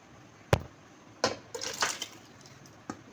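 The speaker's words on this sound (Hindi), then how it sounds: "अब इस गरम पानी में मैं ये ग्रेवी ऐड करती हूँ" Gravy for a mutton curry poured into hot water in a pressure cooker, a few sloshing splashes and liquid pours in bursts, close and fairly quiet, with no talking.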